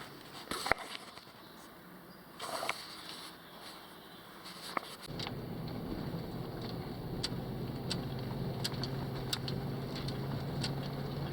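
A vehicle climbs the road toward the refugio on Pico de Orizaba in Mexico, with scattered knocks and rattles at first, then a steady engine rumble and cabin noise with occasional ticks.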